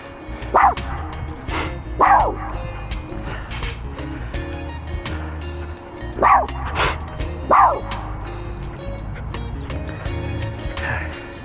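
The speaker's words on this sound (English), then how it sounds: "He is still barking." A dog barks at people nearby outdoors, giving five sharp, loud barks spaced a second or more apart over a low background rumble.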